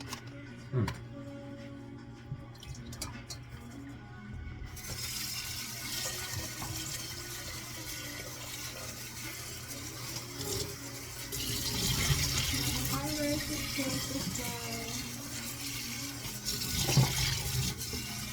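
Kitchen tap running while kitchenware is washed, a steady rushing hiss of water that grows louder partway through, with clinks of dishes and people talking nearby.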